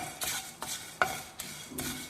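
A spoon scrapes and stirs dry pav bhaji masala spices roasting in a hot pan in four or five separate strokes, close up, with no talking.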